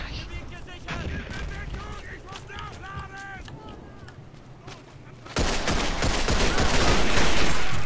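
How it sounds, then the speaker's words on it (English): Mortar and gunfire in the World War I shooter Verdun 1914-1918: talk over a low rumbling battlefield gives way to a sudden loud burst of sustained booming fire that continues to the end. "I'm mortaring the hell out of him"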